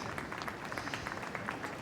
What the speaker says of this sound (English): applause from the Belgians in the crowd.